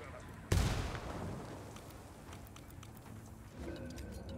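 A demolition charge detonates in Ghost Recon Wildlands, a sudden loud blast with a broad low rumble that decays over a few seconds into ambient battlefield noise and faint voices.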